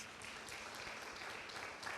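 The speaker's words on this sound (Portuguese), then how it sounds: "Uma salva de palmas." A church congregation claps in a continuous, faint, distant wash of applause with no clear individual claps standing out.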